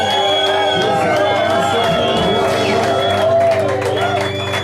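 A church congregation cheers and calls out together in a loud, continuous roar of acclamation, voices overlapping with some clapping mixed in.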